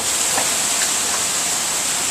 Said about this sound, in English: Tornado sirens, heavy extreme rain.